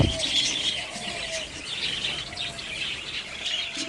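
Java sparrows and lovebirds chirp and tweet busily and close by, a continuous overlapping twittering with a few soft coos beneath.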